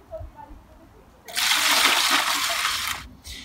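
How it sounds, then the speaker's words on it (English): Collected rainwater poured into a small container pond, a steady splashing stream that starts abruptly and runs for about two seconds before cutting off, with a brief extra splash after. "I've collected some rainwater which I'm going to add to my container pond"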